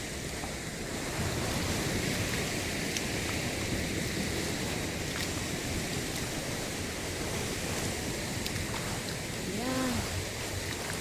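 Sea waves wash steadily onto a Quezon province beach, a broad continuous surf roar with wind buffeting the microphone, close and unbroken for the whole stretch.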